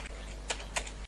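Keys pressed on a computer keyboard, a couple of sharp, close clicks about a quarter second apart over a quiet room background, with no talking.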